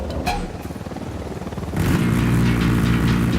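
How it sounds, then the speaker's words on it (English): Helicopter approaching in the video game Ghost Recon Wildlands: a rhythmic rotor chop and engine drone that grow suddenly louder and fuller partway through, then hold steady and close. "We got a chopper coming in."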